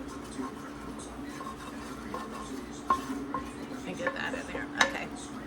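A utensil scrapes and clinks against the bottom of a pan to loosen bacon bits for a bean soup, with scattered metallic scrapes and taps over a low background hum and a voice speaking.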